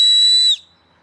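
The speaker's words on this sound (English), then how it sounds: "This is a signal whistle." A carved wooden signal whistle, whittled with a Swiss Army knife, gives one loud, steady, piercing note for about half a second, then stops sharply, leaving near silence.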